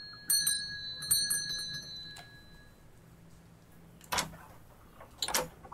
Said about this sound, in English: Ring the bell.